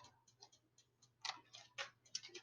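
Rapid, irregular clicking ticks, some louder bursts, heard close over a low steady hum, with no voices present.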